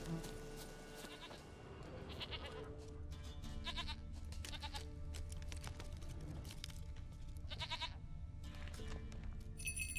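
In The Witcher 3: Wild Hunt, a goat bleats several times in short, wavering cries spaced across the clip over a low, continuous game ambience.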